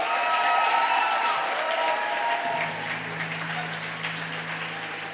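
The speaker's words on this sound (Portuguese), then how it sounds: "Dá uma salva de palmas essa galera aí." A church youth meeting audience applauds, with many hands clapping in a dense crowd patter that fades a little toward the end, and a low steady tone joins halfway through.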